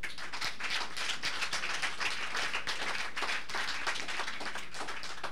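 A church congregation claps together in dense, steady applause for a few seconds, loud and continuous with no voices standing out.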